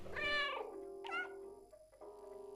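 A cat meows in the video game Stray, two drawn-out close meows followed by a softer, quieter cry, heard alone without talk.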